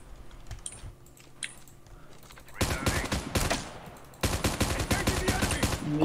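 Rapid automatic gunfire bursts in Call of Duty Mobile, a battle royale shooter, loud dense volleys from about 2.5 seconds on, a brief lull, then another sustained barrage, with faint earlier clicks.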